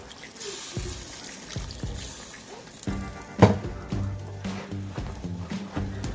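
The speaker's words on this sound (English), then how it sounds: "now we're just gonna pour this in." Cornstarch-and-water slurry poured into a pot of chicken gravy, giving a soft, close trickle and splash with a few light kitchen knocks and clinks, fairly quiet throughout.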